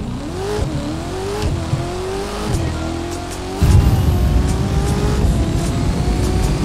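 Corvette C8 engine in the racing video game The Crew 2, an unupgraded stock car, revving loudly and rising through gears with pitch sweeps, then a rougher, louder roar as it accelerates, with no talk.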